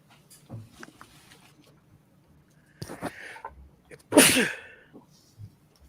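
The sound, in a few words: sneeze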